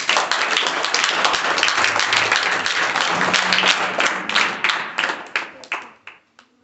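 A classroom of students claps together after a fractions lesson, loud overlapping claps that thin out into a few scattered final claps before stopping.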